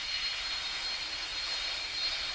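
Boeing 747 jet engines in the PTFS video game roar steadily as the aircraft taxis, a continuous broadband hiss with a whining edge at moderate loudness and no voices.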